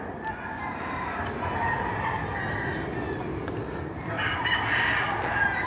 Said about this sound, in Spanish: Hembras K20. Bonita esa gallina.